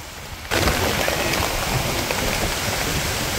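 Heavy monsoon rain pours down during the rainy season at a rice harvest in Bangladesh, a steady, dense roar of drops that starts abruptly and stays loud and close throughout, with no talk.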